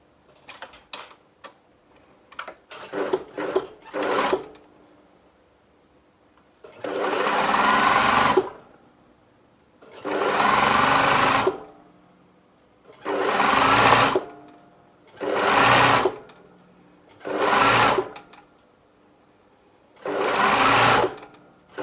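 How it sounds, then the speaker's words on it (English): A sewing machine stitches along a lace edge for a dress, running in six or seven even, close bursts separated by short pauses. A scatter of small clicks and ticks comes first. "I'm just going to sew on the edge of the lace"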